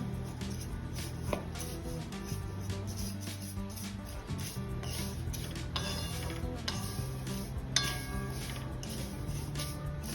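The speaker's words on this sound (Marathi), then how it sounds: "शेवया एकदम लो फ्लेमवर छान भाजून घ्यायच्या आहे" Vermicelli roasting on low flame in a pan for sheer khurma: a steady stream of light metallic scrapes, taps and clinks from stirring, close and continuous, over a low background hum, with no talking.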